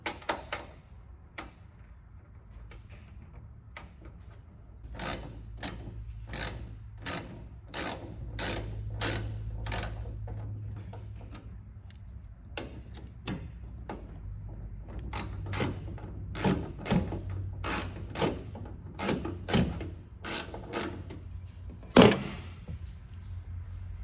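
Ratchet tightening a bolt on a Combat Off Road Tail Gunner tail light fitted to a Jeep Gladiator: close, crisp rapid clicking in two long bursts of steady strokes, with a short pause between them and a clunk near the end.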